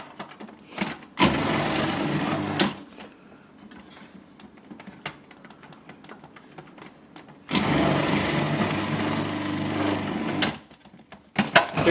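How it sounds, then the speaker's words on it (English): An old kitchen food processor grinding potatoes for latkes, running in two steady, loud whirring bursts of a couple of seconds each, with quieter clatter and handling noises between them. "I've turned that on, my old faithful food processor."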